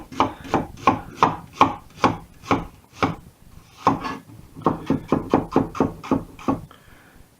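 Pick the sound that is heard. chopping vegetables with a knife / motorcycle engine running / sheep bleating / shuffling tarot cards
chopping vegetables with a knife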